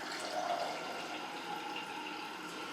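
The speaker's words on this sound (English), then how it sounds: "in my magic bullet, I'm going to fill that with water." Water running steadily into a Magic Bullet blender cup in a kitchen, a soft continuous hissing pour at low level, even throughout with no speech.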